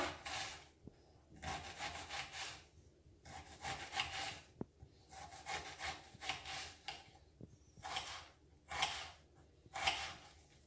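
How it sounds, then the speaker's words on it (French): A knife finely chops an onion on a cutting board, giving rhythmic bursts of close, scraping cuts separated by short pauses, with no speech. "je découpe ici. Ça va me faire des tout petits morceaux d'oignon"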